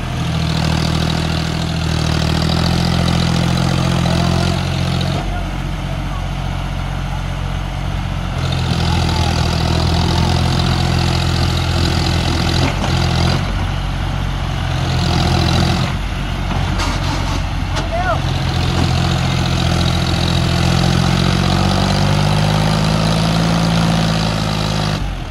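A tractor stuck in mud during a field test of Swaraj 744 XT, John Deere 5042 D and Mahindra tractors, its diesel engine idling with a steady, loud, low rumble that holds throughout with slight surges.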